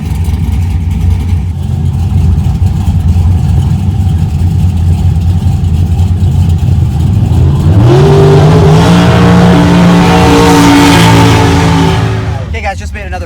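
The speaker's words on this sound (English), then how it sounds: "Okay guys, just made another pass there." A 1968 Dodge Dart drag racing on a strip: a loud steady engine drone, then a sharp rise in revs at full throttle that holds before dropping away. A voice is heard.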